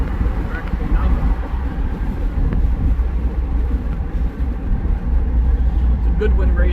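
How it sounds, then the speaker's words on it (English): A Mazda Miata fitted with a Goodwin Racing exhaust drones with a low, continuous rumble while driving, loud and steady throughout, with a voice talking over it. "Just love the sound of this exhaust."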